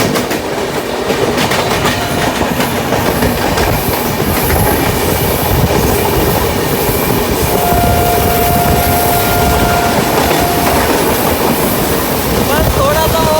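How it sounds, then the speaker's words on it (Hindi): A New Delhi–Dehradun Janshatabdi Express overtakes the Ala Hazrat Express, heard from inside the train as a loud, continuous rumble of wheels on the rails. A rhythmic clickety-clack runs through it, and a brief whistling tone rises midway. "अपनी ट्रेन ओवरटेक मारी है आला हजरत एक्सप्रेस को, जो भुज से बरेली के बीच चलती है"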